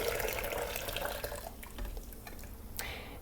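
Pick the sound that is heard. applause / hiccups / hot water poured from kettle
hot water poured from kettle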